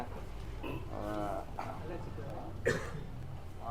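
A pair of Hallikar bullocks on a farm, with a low moo-like call rising briefly over steady nearby talking and farmyard background.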